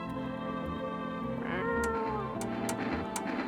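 A cat meows in the video game No I'm Not A Human, several drawn-out, wavering meows in close succession over a steady droning background score, with no talk.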